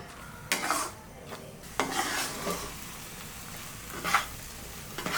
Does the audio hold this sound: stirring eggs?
yes